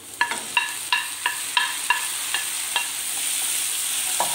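Tomatoes are stirred into frying onions in a pan for lauki kofta curry, a series of sharp clinking spoon strikes against the pan over a steady sizzle that grows slightly louder toward the end.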